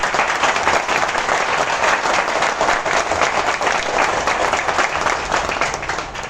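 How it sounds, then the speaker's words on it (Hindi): Loud, sustained applause from an audience at a business seminar, dense steady clapping filling the room for several seconds before easing slightly at the end. "जोरदार क्लैपिंग एक बार इसके लिए।"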